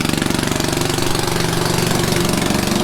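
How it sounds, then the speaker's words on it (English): A rented air compressor running steadily at a boatyard, a loud continuous mechanical chug with a fast even pulse, close by and alone. "So the compressor that we borrowed from Amazon was way too small, so we have rented another one from the boatyard."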